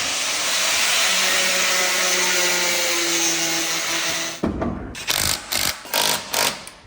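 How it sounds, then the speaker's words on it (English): A power tool cuts into the front bumper of a 700+ HP drift car, giving a long steady high whine that stops, then a series of short rhythmic bursts of cutting, close and loud. "we need to cut the front bumper a little bit so that the wheels fit"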